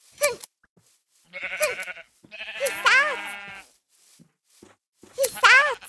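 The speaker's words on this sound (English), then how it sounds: "she'll go around and shear wool off of nearby sheep" Minecraft sheep bleat in a modded game, with four separate nasal bleats spaced by short silent gaps, loud and close with no talking.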